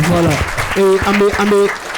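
An audience applauds a guest on a French-language evening broadcast; steady clapping sits beneath a voice with a sung or drawn-out tone throughout.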